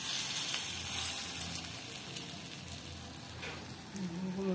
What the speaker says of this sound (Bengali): এবার এর মধ্যে আমি পেস্টটাকে বড়ার আকারে ভেজে নেব।